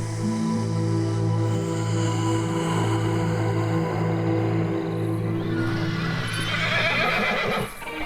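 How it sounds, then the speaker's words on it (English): A horse neighs loudly and at length close by, a long shaky whinny that trails off with some rustling at the end. "I heard this terrible neighing from my horse"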